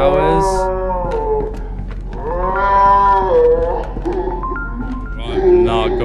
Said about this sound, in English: Do you know where the cow is?